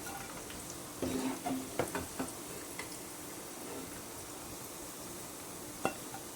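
Crab bhaji (crispy crab fritters) frying in hot oil, a steady low sizzle with a few sharper pops and clinks near the start and one crackle later, no talking.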